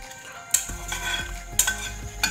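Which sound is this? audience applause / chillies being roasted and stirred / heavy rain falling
chillies being roasted and stirred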